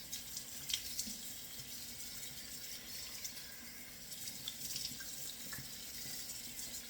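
A bathroom tap runs steadily while a cleansing balm is rinsed off the face, giving a constant soft splashing hiss with small irregular splatters throughout, close by and fairly quiet.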